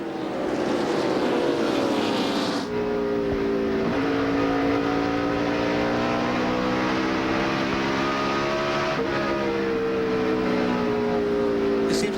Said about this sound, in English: listen how he gets off the throttle and just lets the car coast through. Then starts picking up the gas.